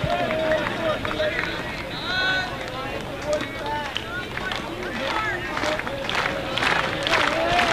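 A baseball crowd cheers and roars at a rainy ballpark during a Corvallis Knights versus Victoria HarbourCats game. Sustained, rising crowd noise fills the background while an announcer talks over it.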